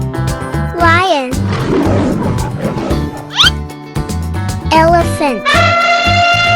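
A cartoon lion roars loudly over a cheerful children's music backing, with whooshing effects and chime-like tones around it.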